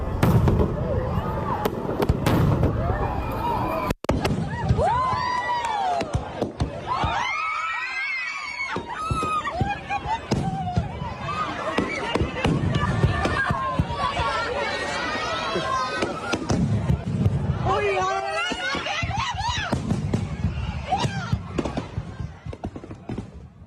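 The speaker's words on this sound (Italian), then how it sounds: "dei fuochi d'artificio sono impazziti, sono caduti tra la folla provocando diversi feriti" Loud crackling bangs and bursts of fireworks falling into a crowd, mixed with panicked screaming and shouting from injured and fleeing people, dense and chaotic throughout.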